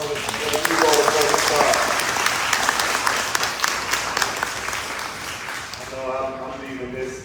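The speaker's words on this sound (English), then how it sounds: "let's give him another round of applause" Sustained applause from an audience at a Mother's Day choir performance fills several seconds with dense, even clapping, fading as a voice begins speaking toward the end.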